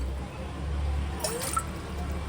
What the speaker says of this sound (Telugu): అదే గ్లాస్తో ఒక గ్లాస్ నీళ్ళు పోసుకుని ఇంకా కొన్ని పోసుకోవాలి